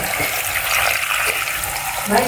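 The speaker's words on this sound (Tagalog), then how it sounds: "lagyan ito ng tubig" Water pouring into a pressure cooker holding bullfrog soup with salt, running steadily up close for about two seconds with a slight change in pitch near the end.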